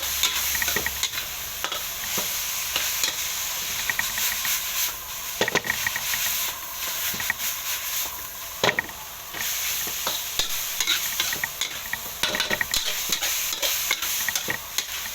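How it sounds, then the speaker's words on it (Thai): Pork stir-fried with holy basil, red holy basil, dried chillies and bird's eye chillies in a hot pan, a continuous loud sizzle broken by repeated scraping and clattering strokes of the spatula. "กะเพราแดงฮะผสมกันไป"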